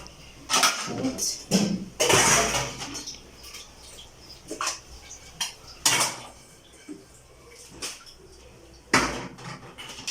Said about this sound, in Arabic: افضي بقى المواعين بتاعتي.